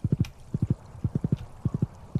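Horse hooves clip-clopping as the horse is ridden around town in Stardew Valley, quick clear groups of three to four beats repeating at a steady trotting pace, close and distinct, with no voices.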